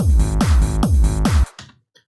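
Reverse bass sidechained with the Shaperbox plugin: four loud swelling bass notes in a steady pumping rhythm, each one rising and then cut off, after which the sound stops abruptly into a short fading tail.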